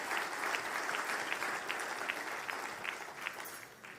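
An audience claps for honorees at an awards event, with steady, full-room applause and a few sharper individual claps standing out before it slowly thins.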